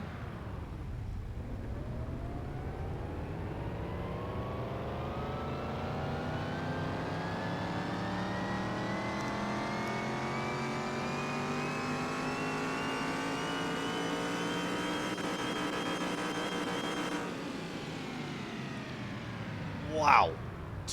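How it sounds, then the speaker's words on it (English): A tuned car engine on a dyno in Car Mechanic Simulator, revving steadily upward in one long, rising pull for many seconds before the throttle drops sharply, followed by a brief clunk; no one talks over it. "Let's start it up. Let's run the dyno."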